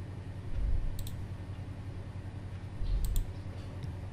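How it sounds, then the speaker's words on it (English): Two quick double-clicks of a computer mouse to extract a zip file on a desktop computer, crisp close clicks in pairs about two seconds apart over a low room hum. "Just double click it to extract this zip file."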